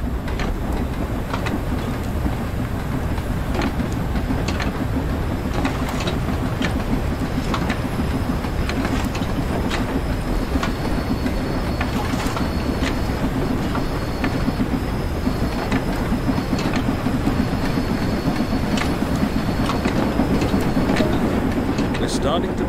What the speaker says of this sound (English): Now we're moving, we can open the regulator some more.